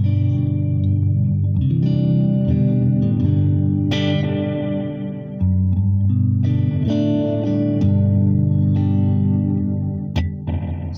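An electric guitar plays chords and single notes through a Distortion Plus-type boost and echo pedal, heavy distortion with echo trailing behind, loud and sustained, with no voice.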